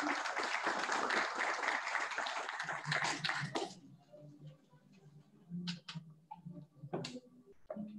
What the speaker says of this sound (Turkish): Hediyelerimizi takdim etmek üzere Sayın Dalçın Köksal'ı alkışlarınıza davet ediyoruz